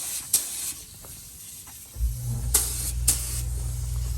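Aerosol spray paint hisses in short bursts as candy pink is laid in light coats over silver on a kids' GMC Power Wheels ride-on car, with a continuous low hum joining halfway through.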